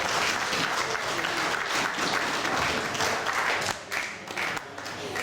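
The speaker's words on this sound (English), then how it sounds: "Another round of applause here for a brilliant woman," Warm audience applause at a mental health event, dense and sustained clapping that eases slightly in the last second or so.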